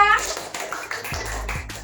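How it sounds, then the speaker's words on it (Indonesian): Children in a multigrade classroom give a short burst of hand clapping, a quick patter of claps over an adult speaking nearby in the room. "Oke, tepuk tangan dulu buat mereka"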